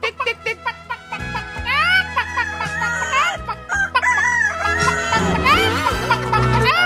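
Chickens clucking and a rooster crowing loudly and close by, overlapping calls and drawn-out crows layered together with several birds active at once.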